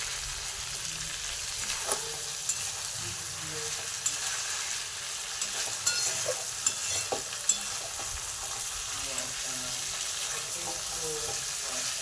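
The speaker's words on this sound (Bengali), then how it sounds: "এবার জলটা দিয়ে দেবো, গরম জলটা" Chicken kosha frying in a pan gives a constant bright sizzle, joined by pouring water and a few sharp clinks of utensils, with no talking.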